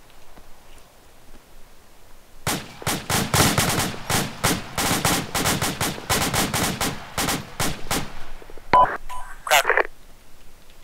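Rapid rifle gunfire cracks steadily on an ARMA 2 training range, many sharp shots in a dense burst lasting several seconds, then a brief pause and a few louder final reports.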